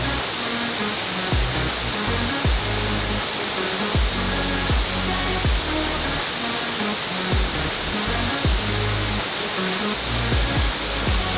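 Steady rushing roar of cascading mountain water right beside the Appalachian Trail in New Hampshire's White Mountains, loud and continuous with no break for the whole stretch.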